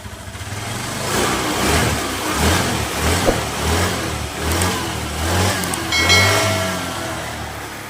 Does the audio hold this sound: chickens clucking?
no